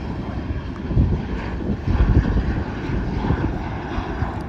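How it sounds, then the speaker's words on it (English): Airliners taking off together at Charlotte airport, a broad continuous jet roar with low rumble swelling and fading slightly, steady and loud throughout with no voices. "Another double takeoff."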